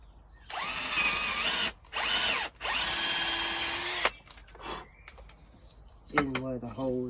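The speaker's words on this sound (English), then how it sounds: "drill" A power drill boring holes in wood for a bench hook, running in three bursts with brief stops between, close and loud, followed by quieter handling noises and a voice speaking near the end.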